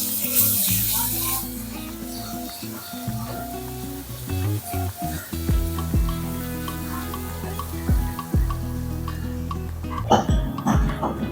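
A spoonful of coarse ginger-garlic paste added to hot cumin tempering in a pan, giving a loud close sizzle and crackle with clanks and stirring strokes throughout, and a brief burst of spatter at the start.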